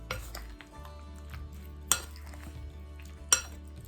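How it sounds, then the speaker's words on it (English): Chicken pieces stirred with egg in a pan for gluten-free sweet and sour chicken, soft scraping and mixing with two sharp utensil clinks against the pan, quiet and close. "So we're gonna dump it all over. And give it a mix."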